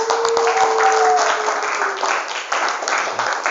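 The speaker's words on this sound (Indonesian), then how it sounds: "Tepuk tangan buat kita semua." A high school maths class in Indonesia applauds together, a burst of mixed clapping that is loud at first and slowly thins out, while someone talks over it near the end.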